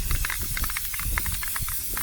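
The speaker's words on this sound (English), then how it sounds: "I spray right over the weights," Black spray paint hisses steadily from an aerosol can onto a Camaro wheel, passing over the wheel weights. The light coat is a close, continuous hiss lasting about two seconds.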